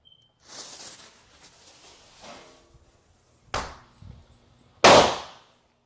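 Indoor fireworks go off in a bedroom: faint fizzing and crackling bursts, then two sharp, loud bangs a little over a second apart, each decaying quickly in the room.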